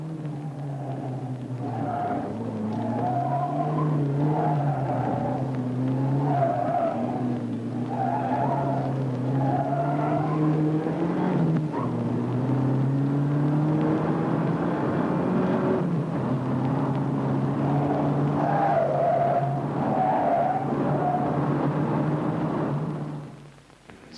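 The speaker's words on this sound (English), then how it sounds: "let's see the Saab Turbo against the BMW 528 on a slalom" A Saab 99 Turbo and a BMW 528 run a slalom course, engines droning and revving as tires squeal and skid through repeated turns, loud and continuous before cutting off at the end.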